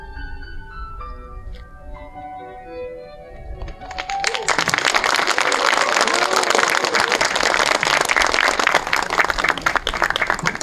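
At a literary museum opening ceremony in Geochang, soft tonal music with sustained notes fades out, then a crowd breaks into loud, sustained applause for actress Park Jeong-ja's performance that continues to the end.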